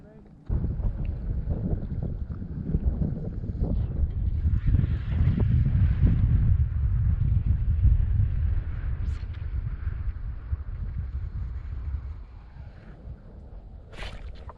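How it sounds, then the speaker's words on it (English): Strong wind gusts across open water during kayak bass fishing from a Vibe Shearwater 125, a heavy, continuous low rumble buffeting the microphone for the whole stretch, easing slightly near the end. "even though it is super windy"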